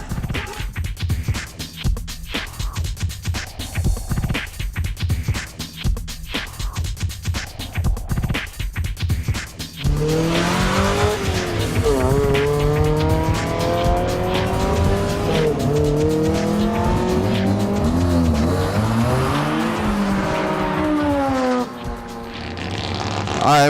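A modified 1991 Mazda Miata with turbo intake and blow-off valve laps the Willow Springs track, engine droning and surging loudly up and down through gears with tire noise, first rough and choppy, then a sustained rising and falling roar.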